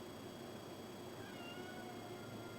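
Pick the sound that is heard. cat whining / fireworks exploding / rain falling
cat whining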